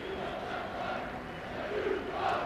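Steady crowd applause and cheering fills a football ground at Vale Park during Andy Porter's testimonial match between Port Vale and Derby, a dense, continuous roar that swells slightly toward the end.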